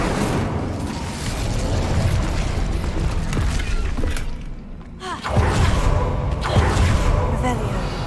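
An Incendio fire spell is cast in Hogwarts Legacy, a loud whooshing burst of flame with dense rumbling, a brief drop-off midway and then a second roaring surge.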